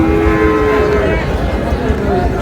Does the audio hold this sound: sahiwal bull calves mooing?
yes